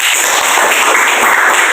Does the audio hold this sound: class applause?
yes